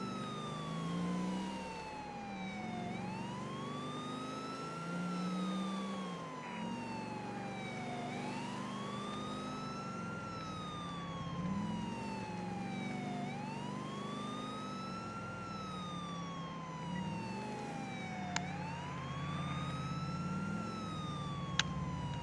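Police sirens wail continuously in the GTA 4 video game, several rising and falling tones overlapping in a slow repeating cycle, loud and steady over an engine-like rumble, with no talking.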